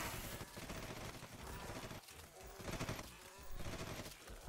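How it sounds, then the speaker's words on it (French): Gunfire from poison ammunition in the video game Red Solstice 2: a quiet, continuous patter of rapid shots sounds throughout, with a few brief gaps and a sharper pop at the very end. "là je suis en train de tirer des munitions de poison"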